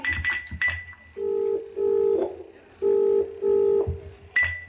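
A few quick phone keypad beeps, then a steady repeating ringback tone in several long pulses, with brief clicks at the start and end.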